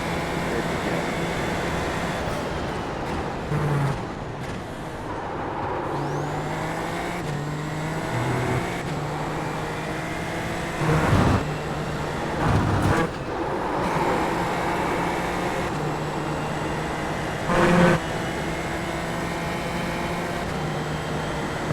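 A racing car engine howls around a track in a racing video game, sustained and loud, with rising and falling revs through gear changes and brief bursts of louder engine noise.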